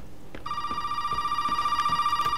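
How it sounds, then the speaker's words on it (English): Telephone ringing in the video game Resident Evil 7, a steady electronic trill that starts abruptly and repeats in a fast pulsing rhythm, close and clear over quiet ambience. "Why is the phone ringing?"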